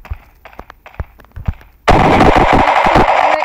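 Sustained burst of automatic gunfire from a tactical gun in the video game Pixel Combat, loud and continuous, following a stretch of quiet clicks and thumps.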